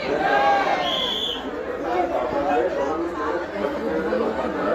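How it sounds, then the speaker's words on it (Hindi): Crowd of devotees at Kalkaji temple chanting praises of the goddess, a dense, continuous wash of many voices that stays loud and close throughout. "देखो यहाँ पर माता रानी के जयकारे लगाते हुए सभी लोग आगे बढ़ रहे हैं।"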